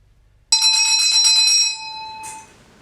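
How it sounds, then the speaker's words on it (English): A single loud electronic bell tone signalling the end of a timed exam station in a hospital, starting abruptly after a moment of silence, holding steady, then fading away, heard alone. "At the end of the 5 minutes, a bell will sound and the student will leave the room."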